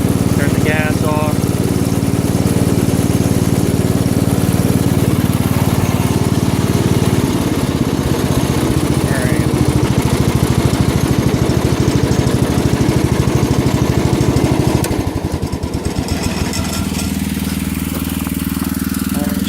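Old John Deere tractor engine idling steadily with a slight tick, a continuous close mechanical drone running the full length, with some handling noise near the end.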